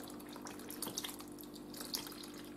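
Sauce and water are poured over cabbage rolls in a pot, giving a faint, steady splashing and trickling of liquid with small gurgles, close by and quiet.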